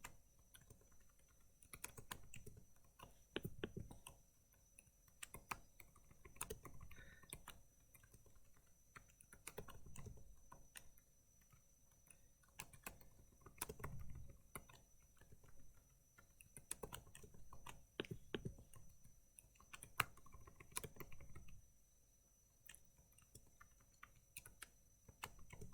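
Computer keyboard keys clatter steadily throughout, quick irregular bursts of keystrokes with short pauses, fairly close and at moderate level, no talking, as someone works in an Excel spreadsheet.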